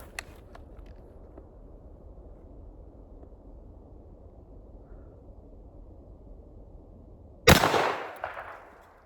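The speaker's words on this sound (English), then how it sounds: "next up is 12 gauge slug at our pineapple" A 12 gauge shotgun slug fired at a pineapple outdoors, one sharp, loud blast after several seconds of quiet ambience, followed by a rolling echo that fades out.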